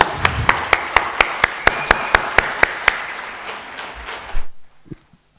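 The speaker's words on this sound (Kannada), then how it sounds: "ಸೊ ಚಪ್ಪಾಳೆ, ದಯವಿಟ್ಟು ಚಪ್ಪಾಳೆ" An audience at a Networkers Day ceremony claps in a steady, evenly spaced rhythm of sharp, loud beats for about four seconds, then stops abruptly and leaves near silence.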